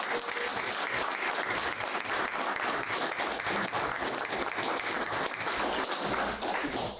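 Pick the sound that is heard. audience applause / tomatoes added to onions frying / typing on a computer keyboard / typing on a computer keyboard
audience applause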